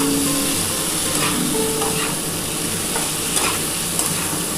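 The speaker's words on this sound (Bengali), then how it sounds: "বন্ধুরা দেখো আমার কিন্তু মশলাটা কষানো কমপ্লিট হয়ে গেছে, দেখো পুরো তেলটা ছেড়ে ছেড়ে এসছে" Spice paste sizzling and frying in oil in a pan while being stirred, for a spicy cauliflower, potato and egg curry; a steady close sizzle with scraping stir strokes, no talking.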